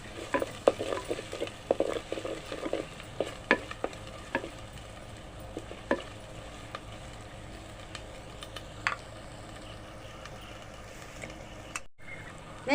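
A spoonful of turmeric stirred into a simple fish curry of small fish in a pan, a soft steady sizzle under frequent clicking spatula scrapes that thin out toward the end, close and with no talk.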